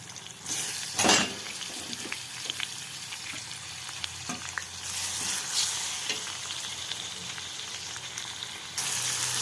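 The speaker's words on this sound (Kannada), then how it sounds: "ಈರುಳ್ಳಿ ಕೆಂಪಾಗೋದು ಫ್ರೈ ಮಾಡಿ ಈಗ ಟೊಮೊಟೊ ಹಾಕೋಣ" Onion and tomato frying in a pan for a drumstick-leaf thokku, a continuous close sizzle with repeated stirring scrapes and taps, one brief louder burst early on and a rise in hiss near the end.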